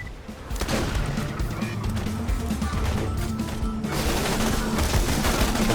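Borderlands 2 video game combat: dense, rapid bursts of automatic gunfire and impacts pouring out almost without pause, loud and close, with a gobbling turkey-like creature mixed in.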